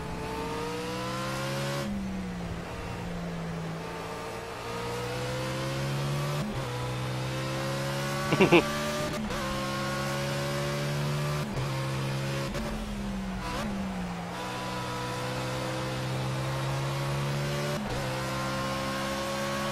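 A race car engine in the Project CARS video game drones loudly and continuously, climbing in pitch through each gear and dropping sharply at every shift, with a brief tire or kerb rattle near the middle.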